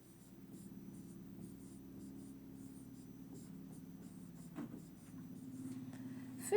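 Chalk or marker scratches steadily across a board in a quiet classroom, a faint, continuous writing sound over a low room hum, with a brief louder tap near the end.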